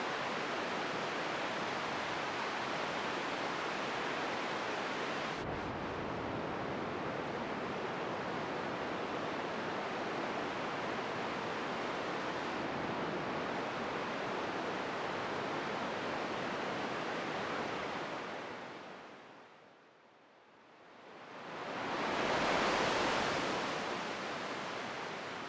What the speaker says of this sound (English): you can hear we're already getting an ocean sound effect